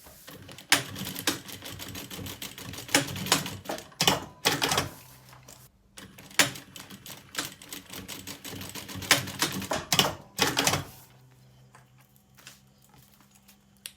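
A sewing machine runs in short, rapid bursts of stitching along an edge beside a zipper on a lunch bag, clattering close by with brief pauses between runs.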